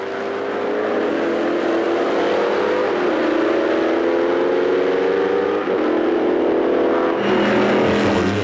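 Race cars at the Spa-Classic 2011 historic event roar loudly and continuously, engines droning at high revs with shifting pitch as they pass close by.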